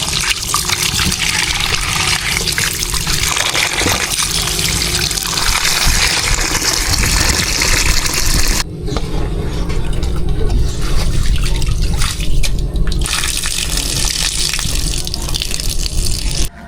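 Cassava being washed outdoors under running water, a steady loud gushing and splashing stream that continues throughout with a short break partway.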